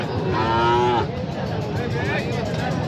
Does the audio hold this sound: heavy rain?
no